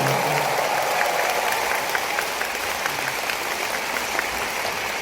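A concert audience in Jamsil Arena applauds in a broad, continuous roar of clapping that stays loud and even from start to finish, with no voices over it.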